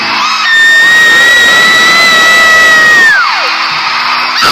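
A concert crowd at a show in Greensboro, NC, screams and cheers at full volume, with sustained high-pitched shrieks ringing above the roar before it briefly eases.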